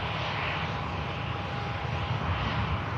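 Havoc Air aircraft passing over Manchester Airport on a cloudy day, a loud, steady engine roar that fills the whole stretch with no talking.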